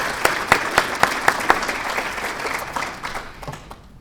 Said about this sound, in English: just let's give them a round of applause